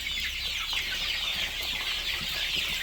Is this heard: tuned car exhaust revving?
no